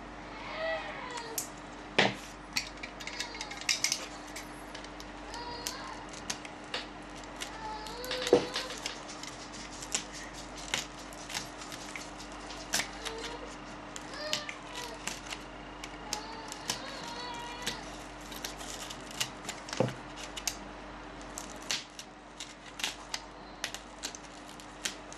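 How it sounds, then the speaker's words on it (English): Scissors cut circles out of cardboard while making the tip of an SCA combat weapon. Quiet, close snips and crisp clicks repeat irregularly over a faint steady hum, with no voices. "And then we're gonna cut them out."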